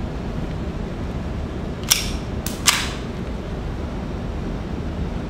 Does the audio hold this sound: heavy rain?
no